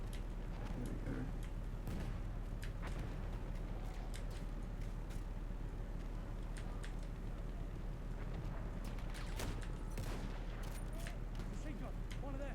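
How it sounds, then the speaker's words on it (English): Machine gun fire in the World War I shooter Battlefield 1, rapid cracking bursts of shots at mid distance over constant battle rumble, with scattered louder reports throughout. "Machine gun, one of theirs."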